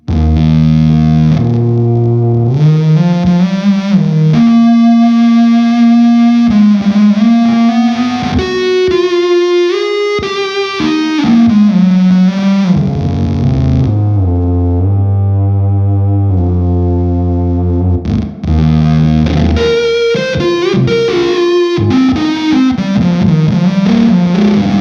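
An electric guitar played through a THOR fuzz pedal rings out with thick, heavily distorted tone, shifting between sustained chords and melodic lines over about twenty-five seconds of loud, continuous playing with no talk.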